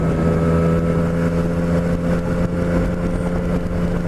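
A motorcycle engine drones steadily while riding along on a December ride, with a constant low hum and faint wind and road noise, close and continuous throughout.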